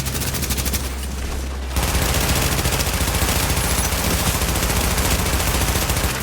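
Sustained automatic gunfire in The Division's Last Stand mode, a dense, loud stream of rapid shots that starts after a brief quieter opening and continues without pause.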